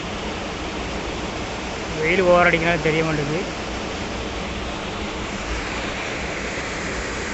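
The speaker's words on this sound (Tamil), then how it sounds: "பக்கத்துலேயே அருவி விழுது பாருங்கள்." A waterfall flows close by near the Tirumalai Nambi temple steps with a steady broadband rush throughout. Someone talks briefly in the middle over the constant roar.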